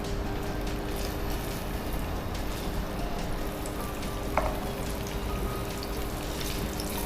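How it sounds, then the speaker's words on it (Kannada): Paneer frying in refined sunflower oil, a dense, even sizzle that holds steady and close throughout, with one small clink partway and no voices. "ಪನ್ನೀರನ್ನು ಸ್ವಲ್ಪ ರೋಸ್ಟ್ ಮಾಡ್ಕೊಳ್ಳುವ"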